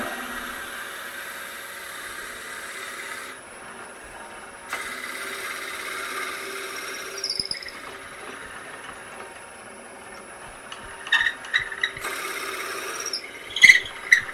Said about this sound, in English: So let's go ahead and drill out the end of this.